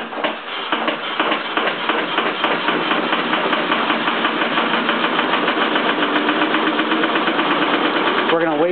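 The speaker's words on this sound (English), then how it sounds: "I'm going to show you what happens when the alternator is directly attached to the motor itself." An electric motor coupled directly to an alternator spins up with a steady, buzzing mechanical whir that holds at an even, fairly loud level, ending in a brief rising sweep.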